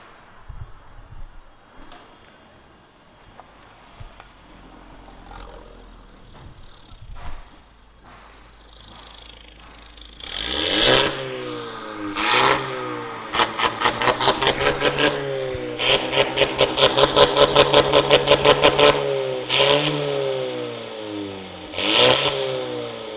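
A Mercedes GLA200 with a 1.6 engine and a remote-controlled valve exhaust idles quietly and then revs hard. Repeated loud throttle bursts build into a rapid string of sharp blips before the engine settles again.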